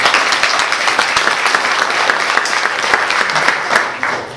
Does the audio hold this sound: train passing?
no